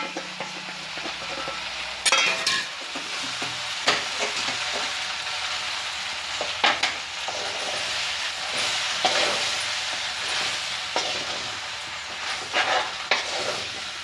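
Ground masala being stirred into citron pickle in a pan over a low flame, with a soft steady sizzle broken by scraping strokes of a spoon at a slow, uneven pace.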